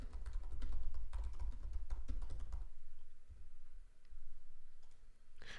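Computer keyboard keys clicking in quick irregular bursts while a comment is typed, close and fairly quiet, easing off partway through with faint low background hum.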